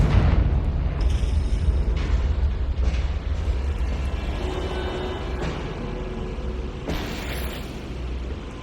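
A Confringo blasting spell goes off in the Hogwarts Legacy video game, giving a loud booming blast at the start that fades into a long, heavy rumble with lighter bursts on top.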